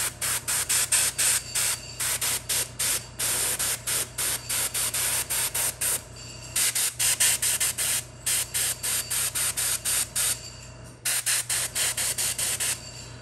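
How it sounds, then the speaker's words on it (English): Spray paint laid down in initial coats on a miniature figure of a shieldmaiden, heard as close, loud bursts of hissing spray in a steady on-off rhythm with short pauses between them. No one speaks. "We're not worried about if we get some overspray or anything like that."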